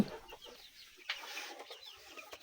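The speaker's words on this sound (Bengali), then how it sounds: "এখানে পাঁচ পিস মুরগি একটা মোরগ" Hens and a rooster on a poultry farm give faint clucks and short calls. The sounds are scattered and fairly distant, set against quiet background noise.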